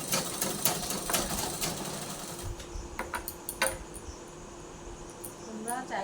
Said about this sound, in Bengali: এরকম করে মুড়িয়ে সেলাই করবো